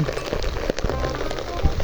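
Rain patters steadily on a surface, a brief, close wash of falling drops.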